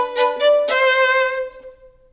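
A second violin and viola play a short passage from Haydn op. 64 no. 4 without cello: a few bowed notes that swell, then one long sustained note that fades away, with no talking.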